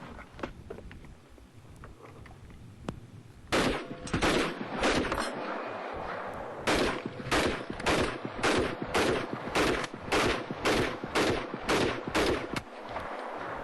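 A World War II-era automatic firearm fires in rapid bursts: one quick run of shots, a pause, then a longer string of sharp, loud reports at a steady clip.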